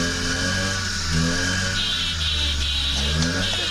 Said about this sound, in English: Believe it or not, it's a moped. I'm riding away now on it.